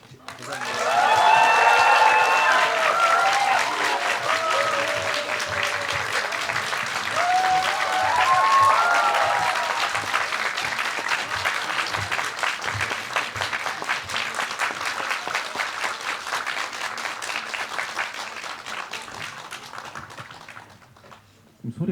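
Sustained applause from a large cinema audience at a film screening talk, steady and dense for about twenty seconds, with scattered cheers and voices at the start.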